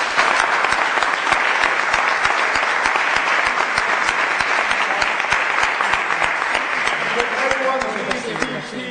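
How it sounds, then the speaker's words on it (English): An audience applauds a special guest at an interactive session, with dense, steady clapping that stays loud throughout and fades slightly at the very end. "please join me in applauding our special guest and also applauding yourself"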